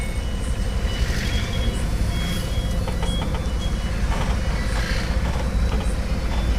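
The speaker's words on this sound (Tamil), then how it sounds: "கிளச்சை நல்லா அழுத்தி பிடிச்சி லாஸ்ட்டில் தள்ளி ரிவர்ஸ்." Tata Ace mini truck backing up, its reverse warning beeper repeating steadily over a constant low engine rumble, no voices.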